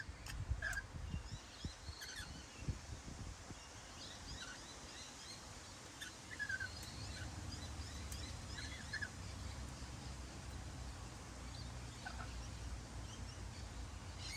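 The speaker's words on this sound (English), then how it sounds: "Very beautiful birds." Birds call intermittently in the distance, gobbling and clucking sounds scattered over a constant low outdoor background.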